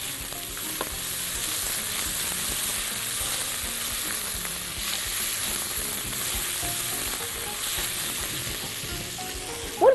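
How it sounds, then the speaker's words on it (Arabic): Chopped onion sautés in ghee in a pot, giving a soft, even sizzle with faint scraping stirs throughout and a sharp clink of utensil on metal at the very end. "ويلا بينا بقى نشوح البصلايه كده لغايه ما تاخد لون ذهبي فاتح"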